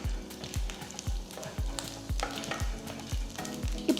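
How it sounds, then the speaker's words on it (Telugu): Chana dal, mustard seeds and cumin seeds roasting in hot oil, a soft steady sizzle broken by a regular rhythm of low thumps and scrapes as a spoon stirs the pan. "నూనె వేడెక్కిన తర్వాత దీంట్లో 1 టీ స్పూన్ శనగపప్పు, 1 టీ స్పూన్ ఆవాలు, 1 టీ స్పూన్ జీలకర్ర ఇది వేసి ఫస్ట్ మనం లైట్గా రోస్ట్ చేసుకుందాం."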